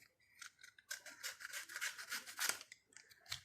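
A craft knife slicing through the elevator part of a homemade model plane, heard as a series of close, scratchy cutting strokes of varying length with short pauses between them, and no talking.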